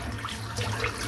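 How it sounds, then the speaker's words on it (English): Water runs from a bathroom tap into a sink as it fills for a head shave, a steady close rushing and splashing that continues throughout, with no talking. "just filling the sink back up"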